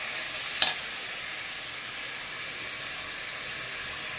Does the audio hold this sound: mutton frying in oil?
yes